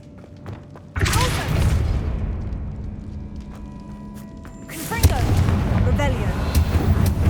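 A Confringo blast spell fires in Hogwarts Legacy: a heavy booming explosion hits sharply, rumbles and fades, then a second blast bursts in with crackling debris a few seconds later.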